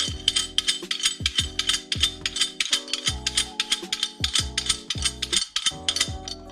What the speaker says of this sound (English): what you're going to do is you're going to spin these locking rings all the way down.